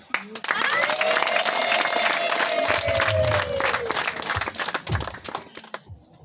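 A church congregation at a Charismatic gathering claps and cheers loudly for several seconds, the applause swelling quickly, holding with a faint tonal whoop, then thinning out and fading toward the end.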